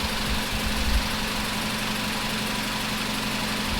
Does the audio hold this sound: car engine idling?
yes